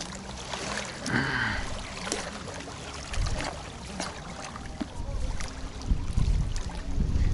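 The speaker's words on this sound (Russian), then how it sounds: "Катер прогулочный, ребята, он пошел." A pleasure motorboat passes on Tagil pond on a windy autumn day, a low engine drone heard faintly from a distance under gusting wind and water noise.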